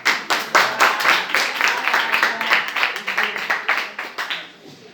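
A small group claps together in a dense, continuous burst of applause that is close and loud and holds steady for several seconds before tapering off at the end.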